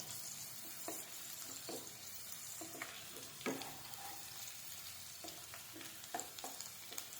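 Chilli mushroom fries in hot oil over a high gas flame, giving a steady loud sizzle broken by recurring scrapes and clatters of stirring, with no voices.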